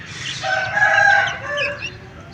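A rooster crows once, loud and close, a rising then falling call lasting about two seconds.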